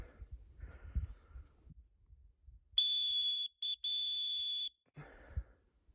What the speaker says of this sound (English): I'm gonna blow the whistle.